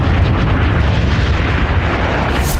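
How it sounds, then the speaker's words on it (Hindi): The explosion from an Iranian drone strike on Kuwait airport comes as a continuous loud, deep rumbling roar, dense and sustained across the whole moment with no separate blasts audible. "ईरान ने कुवैत एयरपोर्ट को निशाना बनाया और ड्रोन से हमला किया, जिसके बाद जोरदार विस्फोट हुआ"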